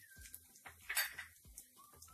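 A spoon tapping and clinking against a metal pan while crushed red chili is added for momos, several light, quiet clinks and scrapes close by.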